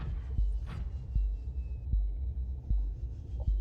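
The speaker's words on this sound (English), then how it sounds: "Oh, is that where I can hear my heartbeat?" Starvation-warning heartbeat in the video game Subnautica: slow, regular deep thumps repeating about every three-quarters of a second under a low hum, with no speech.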